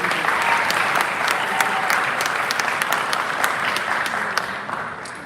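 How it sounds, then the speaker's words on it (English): Audience applause at a graduation ceremony: dense, sustained clapping from a crowd that holds steady at full strength, then eases off slightly toward the end. "Round of applause for yourselves"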